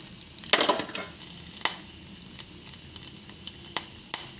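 Curry leaves, dried red chillies and garlic sizzle in a hot pan, with a steady soft fry and a few sharp crackles and spatters. One burst is loud near the start; the rest are scattered and quieter.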